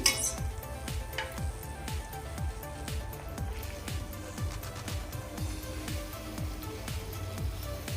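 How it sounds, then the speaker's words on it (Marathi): Rose cookies fry in hot oil for a Christmas batch, giving a steady, close sizzle with a faint clink of metal utensils against the pan throughout and no talking. "हे आपले कुकीज फ्राय कर रंग किती छान दिसतोय गोल्डन ब्राऊन"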